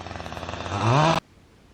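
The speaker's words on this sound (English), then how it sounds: "My husband just started up the chainsaw to cut our firewood for the winter" A chainsaw being started to cut firewood runs with a loud, buzzing, pulsing engine note. It revs higher briefly, then cuts off abruptly, leaving quiet.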